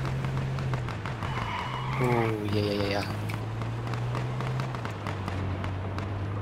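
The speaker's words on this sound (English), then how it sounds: "Hearing shots, but they sound far away." Scattered distant gunshots in the H1Z1 battle royale game pop faintly as a string of quick, irregular cracks beneath a steady vehicle engine hum, with a brief voice heard over them.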